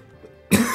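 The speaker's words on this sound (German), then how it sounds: "das ist ein Husten" A single sharp cough bursts out near the mic at the end, loud and broadband after a quiet lead-in, heard during play of a Pokémon game.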